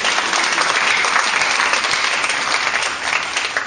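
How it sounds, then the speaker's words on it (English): Congregation applauding at a Feast of Esther church gathering, dense steady clapping from a crowd that holds at full strength for several seconds without pause. "Let's clap for Jesus."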